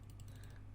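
Left mouse button clicked over and over while brightening dark spots in a portrait retouch in Photoshop: a faint, rapid run of light clicks, close but quiet.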